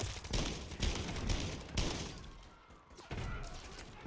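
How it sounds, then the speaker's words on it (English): Shotgun blasts in the Call of Duty MW3 campaign, several loud booming shots fired in quick succession amid dense game combat noise, the bursts fading into a quieter stretch before another hit lands near the end. "I put every shot that this shotgun had in it."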